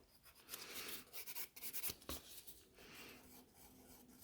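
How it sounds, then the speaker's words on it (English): A nail file or buffer scratches the shiny surface off a natural fingernail before gel nails are sculpted, producing a series of close, short rasping strokes in quick bursts, then a steadier softer rubbing. "Scratch the surface, make sure there is no shiny bits and pieces left."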